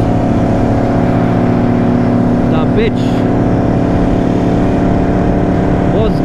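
A loud superbike engine, either a Yamaha R1M or a Kawasaki Ninja ZX-10R, drones steadily and close with strong harmonic tones. Brief speech is heard over it.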